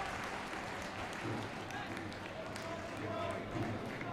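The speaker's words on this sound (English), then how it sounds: "Just a round of applause for the game that he's played." Falkirk football fans stand in the stadium applauding a player leaving the field during a League 1 match against Alloa, a distant steady wash of clapping and crowd noise with a commentator's voice over it.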